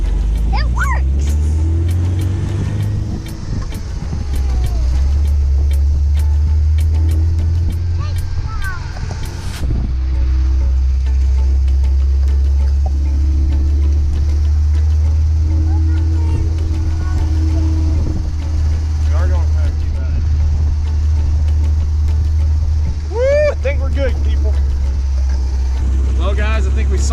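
MGB sports car engine running steadily on a test drive after a SU HIF4 carburetor fuel float replacement, a loud, low, constant drone with brief clicks and rattles, and people talking intermittently over it.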